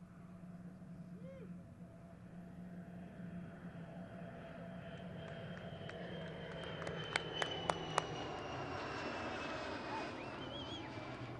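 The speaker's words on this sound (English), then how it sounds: "we're going to see from left to right the mothership flying by in a tight formation with the left boom and the spaceship" White Knight mothership aircraft passing overhead in tight formation with its left boom and the attached spaceship, a steady broad engine roar with a faint rising whine and a few sharp clicks near the end.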